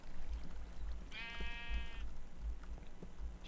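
A single short sheep bleat from Minecraft sounds once in the middle, thin and electronic over a low background rumble, fairly quiet overall.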